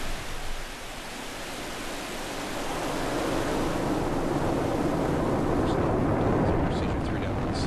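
SpaceX Falcon 9 rocket engines ignite at liftoff for the Zuma launch, a deep, broad, distant roar that swells gradually and holds steady.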